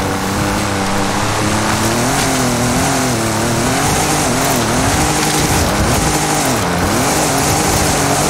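A car engine strains and revs while climbing a steep off-road jungle hill in Forza Horizon 5, a loud continuous drone whose pitch rises and dips as the car struggles, with no talk.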